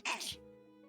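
A single sharp sneeze bursts out at the start, loud and close, then gives way to steady tonal background sound.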